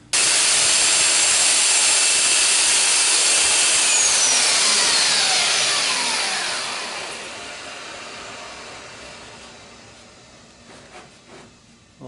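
Power sander running hard against a wooden sign, a loud broad grinding roar with pitch sweeps as the tool shifts, then winding down and fading over the last few seconds.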